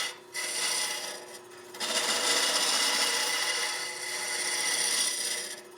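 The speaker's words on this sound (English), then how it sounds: "I'm just going to hollow out a little bit, and you can see the laser where I'm hollowing inside" A boring bar hollows out the inside of a wooden hollow form on a lathe, giving a steady scraping, rasping cut with brief pauses near the start, close and fairly quiet with no voices.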